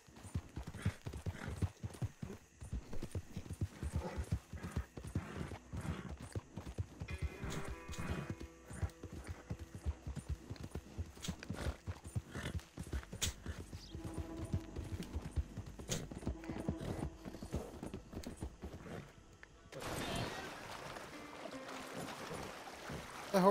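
Horse hooves clip-clopping in Red Dead Redemption 2, a steady galloping rhythm running loud and continuous for most of the stretch, with a brief change in texture near the end and occasional snorts or whinnies mixed in.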